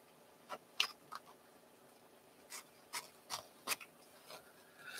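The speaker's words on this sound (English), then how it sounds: "Is I'm going to cut a good size piece of this." Scissors cut lightweight fusible interfacing at a quilting table in a close, sparse series of crisp snips and rustles, with gaps between the cuts and no voice.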